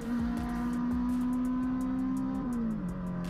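A Ferrari 458 Italia's naturally aspirated engine holds a loud, sustained high-pitched wail close by, then its pitch drops toward the end as it eases off.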